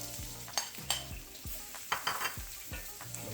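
Garlic browning in a hot pan, stirred with a series of sharp scrapes and clicks over a steady sizzle, close and moderately loud, with no talk.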